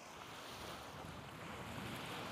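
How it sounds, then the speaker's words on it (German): Water washes and rushes steadily beside a small island in fine weather. The noise is a continuous broadband wash mixed with wind buffeting the microphone, and no one speaks. "wenn es etwas rauscht im Hintergrund, dann liegt das an der wunderschönen Kulisse. Da haben wir nämlich ein bisschen Wasser."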